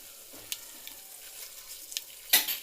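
Chana dal, cumin and mustard seeds are tempered in hot oil for a ridge gourd and moong dal curry, giving a soft sizzle with scattered small pops and one sharper crackling burst near the end.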